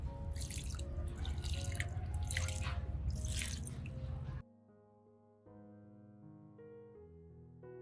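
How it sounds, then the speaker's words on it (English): Water runs steadily from a tap over an orchid for about four seconds, then cuts off, leaving soft background music. "Rinse the entire orchid under running water"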